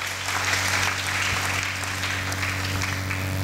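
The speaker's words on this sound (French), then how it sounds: "Acclamons très fort pour lui" An audience at a sermon breaks into sustained applause, a dense, steady wash of clapping that holds at an even level for several seconds without a break.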